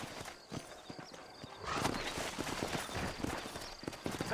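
Horses clip-clop steadily on a town street in the video game Red Dead Redemption, a continuous close rhythm of hoofbeats with an occasional whinny and faint background ambience.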